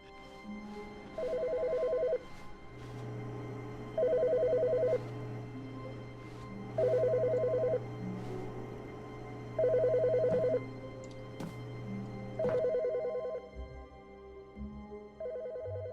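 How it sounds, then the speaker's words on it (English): Telephone ringing in The Stanley Parable Ultra Deluxe, a steady repeating electronic ring in evenly spaced bursts about three seconds apart, with quiet ambient game sound between rings and no talking. "The phone's ringing again."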